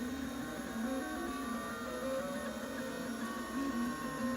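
A 3D printer prints an ULTEM PEI cylinder with a quiet, steady stepper-motor whine, its tones shifting in pitch as the head moves, over a faint background hum.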